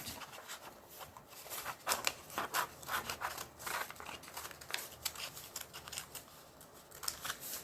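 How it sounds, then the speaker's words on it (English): Scissors cutting paper for a Greek vase craft, a quick series of close, crisp snipping and rustling cuts. "I'm going to fold this little part right here and make a small cut."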